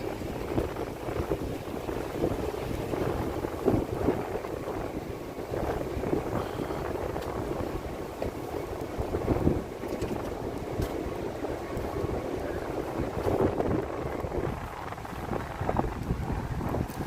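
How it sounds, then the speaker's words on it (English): Gusty wind blowing by the East River in Manhattan, a constant rumbling rush against the microphone with broad noise throughout and occasional stronger buffets, no speech. "Getting windy, especially by the water."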